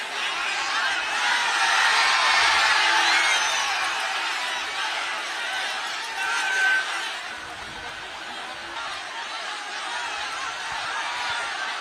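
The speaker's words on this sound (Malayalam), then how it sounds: "കുടിവെള്ളം വിജയ് എറിഞ്ഞു കൊടുക്കുന്നതിനനുസരിച്ച് ഇളകി മറിയുന്ന ആൾക്കൂട്ടത്തെ നമുക്ക് കാണാം" A large crowd at actor Vijay's rally in Karur, Tamil Nadu, surging as water bottles are thrown, heard as a dense, distant roar of cheering and shouting that swells and eases over several seconds.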